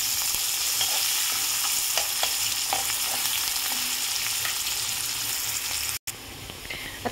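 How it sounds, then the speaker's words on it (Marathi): Onion sautéing in a pan for a Vidarbha-style besan dahi pithla, with a steady close sizzle and frying hiss plus light stirring clinks throughout, no talk. "त्यानंतर छान मस्त आपण याला परतून घेऊया"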